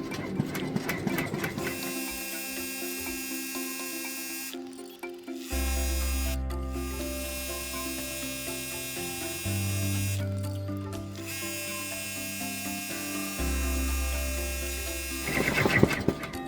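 Embroidery machine stitching phrases onto fabric Valentine pocket hearts, a steady mechanical whir with shifting low motor tones and brief pauses between runs, close and continuous with no talk.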